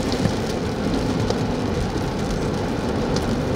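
Heavy rain roaring steadily, a thick, loud wash of drops that never lets up, with no one speaking.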